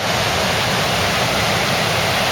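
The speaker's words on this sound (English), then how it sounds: "And here's Dollis Brook." Dollis Brook, a small London stream between High Barnet and Hampstead, flows in a steady, close wash of broadband water rush that holds evenly throughout with no voices.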